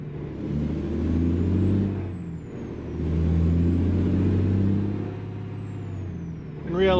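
Kenworth W900 truck with a Cummins ISX engine in American Truck Simulator: a loud, deep diesel drone rises and falls through two swells, with a brief air-brake hiss at the end.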